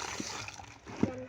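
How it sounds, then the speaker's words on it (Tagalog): Water splashes and sloshes as it is poured into a pig's container on a small farm, short wet bursts close by under a voice and someone talking. "Lalagyan po namin siya ng tubig."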